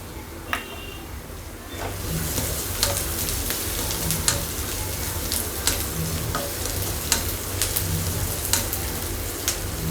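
Finely chopped garlic frying in a pan with a dried red chilli for an egg chukka, giving a loud steady sizzle broken by occasional clicks of stirring, with no talk.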